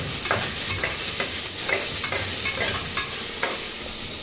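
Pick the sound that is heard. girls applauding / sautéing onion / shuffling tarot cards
sautéing onion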